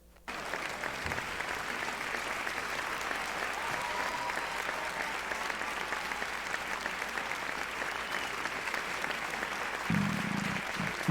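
Sustained applause from a crowd fills the space, a dense, even wash of clapping that holds steady for about ten seconds, with a brief low vocal sound near the end.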